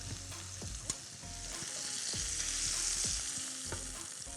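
Blackened mahi-mahi frying in oil in a pan, a continuous close bright sizzle with occasional small pops and utensil taps, no voices.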